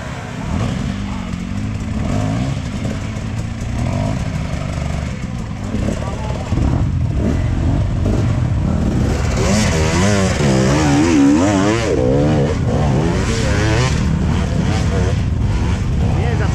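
Off-road vehicle engine revving hard on a wet, oil-slicked mountain trail climb, a loud continuous rough drone that rises and strains, with people talking and shouting over it throughout.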